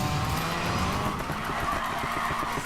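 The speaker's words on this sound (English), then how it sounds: "Drifting, it's pretty fun." A drift car in Need for Speed Payback slides with a steady, loud tire squeal over a continuous engine roar, the skid sustained without a break throughout.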